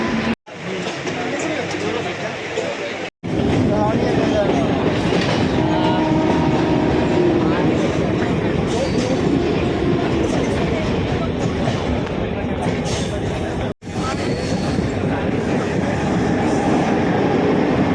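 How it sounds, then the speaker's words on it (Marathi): A train rumbles steadily along the rails with rhythmic clacking, loud and close, briefly cut off twice, with people talking over the noise. "एवढे आली ट्रेन फायनली."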